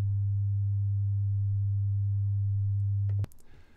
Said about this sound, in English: To create distortion intentionally, we'll insert the SoundToys Decapitator plugin initially with default settings.